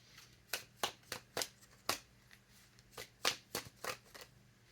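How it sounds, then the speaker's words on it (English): Tarot cards being shuffled in a series of about ten crisp riffling bursts, close and fairly quiet, with short pauses between them and no talking. "I'm going to pull a card on him."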